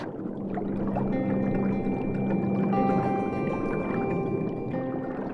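Water flowing through a river valley in Oman that keeps running in the dry season, a steady close wash with faint gurgling and a low background hum.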